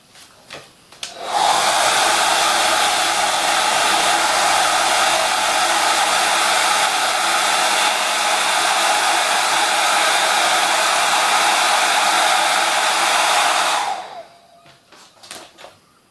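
A hair dryer blows steadily to dry wet paint on a colour wheel craft. It switches on, runs loud and unbroken for about twelve seconds, then cuts off with no other sounds.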